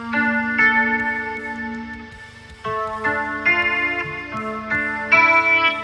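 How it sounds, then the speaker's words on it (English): Clean electric guitar through a Fender Tone Master Pro Jazz Chorus amp model with Boss-style chorus, cloud reverb and digital delay, bridge pickup, playing shimmering sustained chords and arpeggiated notes that swell and ring out, alone with no talking. "I have this cloud reverb, and then I have a digital delay, and that gives us a sound like this."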